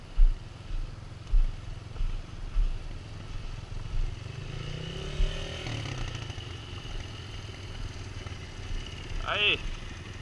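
A motorcycle engine on a sandy dirt trail in the Serra dos Ipês, recorded on a GoPro Hero3, with a steady mid-pitched rumble, irregular revving surges and clatter, while people talk nearby.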